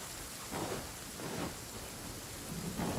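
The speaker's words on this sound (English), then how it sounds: "And it's raining thunderstorm too." Steady rain with rolling thunder from the Genshin Impact game world, a constant wash of downpour swelling with low rumbles roughly every second, no voices.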